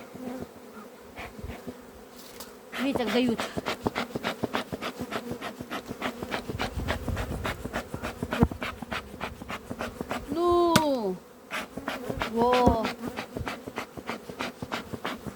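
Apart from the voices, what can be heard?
honeybees buzzing around hive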